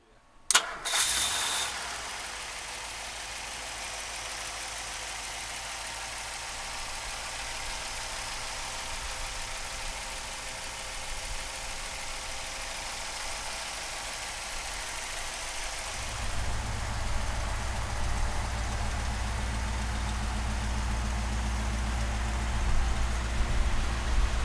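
A 1957 Ford Thunderbird with a Y-block V8 cranks briefly, catches with a sharp burst, then settles into a steady, even idle that deepens and grows louder near the end, with no talk over it.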